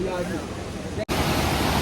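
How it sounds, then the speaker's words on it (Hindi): Fast-flowing Ganges river water in spate near Gangotri makes a loud, steady roaring rush, close and continuous, briefly broken by a cut, with a voice talking over it. "कितनी तेज पानी चल रहा है भाई, देख लो। गंगा मैया पूरे उफान में है"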